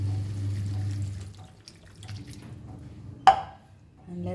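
Half a cup of water poured into a Goan vegetable stew cooking in a pot, a steady splashing pour followed by a brief sharp clink, fairly close and unaccompanied by talk.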